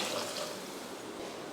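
Water is poured into a pot of rasam, a steady close hiss of running liquid that stays fairly even and unbroken throughout.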